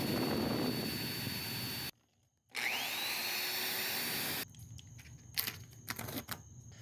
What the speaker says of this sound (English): I'm going to drill the holes using the template